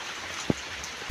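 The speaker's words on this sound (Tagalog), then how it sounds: "Ang lakas po na ulit ng ulan." Heavy rain falling steadily as a soft, even hiss, punctuated by two sharp drops or drips landing nearby, with no talk.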